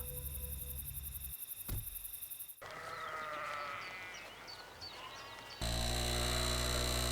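A lamb bleats amid a shifting mix of tones and hums, with a sharp tonal burst late on; the bleats are moderately loud and repeated, with no talking.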